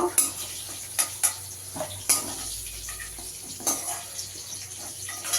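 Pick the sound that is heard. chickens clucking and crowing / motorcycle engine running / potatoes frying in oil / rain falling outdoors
potatoes frying in oil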